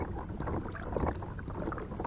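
A kayak is paddled across San Pablo Bay, soft rhythmic paddle strokes and water swishes close by over a low breezy rumble, no talking.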